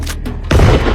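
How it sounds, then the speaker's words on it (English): A sharp, loud burst of gunfire with a booming low-end blast erupts midway, following a quieter rumbling stretch, as in a 9mm pistol shot. "how you gonna survive that gunshot?"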